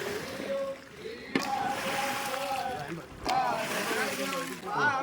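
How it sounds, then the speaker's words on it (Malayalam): A Kerala snake boat moves upstream against the current on the Pamba river near Aranmula. Chorus-like voices carry steadily over a wash of water and paddling, rising louder in bursts at a moderate distance. "ഈ ഒഴുക്കിനെതിരെയാണ് ഇപ്പോൾ ഈ വള്ളം നീങ്ങുന്നത്"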